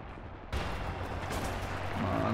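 Rocket blasts in a World War II shooter set around a Soviet assault on German trenches, a sudden heavy boom giving way to a dense, sustained roar of battle noise, loud and close.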